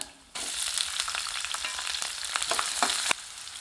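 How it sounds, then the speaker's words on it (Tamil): Sliced large onions sizzle and crackle steadily in a hot pan, loud and close, with scattered popping spatters throughout and no voices. "பெரிய வெங்காயம் மீடியம் சைஸில் ரெண்டு நீளவாக்கில் நறுக்கி வச்சுருக்கேன் இதை சேர்த்து நல்லா வதக்கி விட்டுக்கலாம்"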